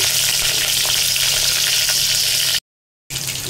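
Whole spices frying in hot oil and ghee for a chicken curry: a steady, loud, close sizzle with no talk, briefly cut to silence before resuming.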